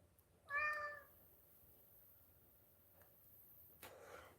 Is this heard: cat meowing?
yes